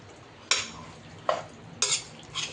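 Masala paste being stirred into chicken donne biryani in a pot, heard as four scraping, clinking strokes of a spoon against the metal over a faint background hiss.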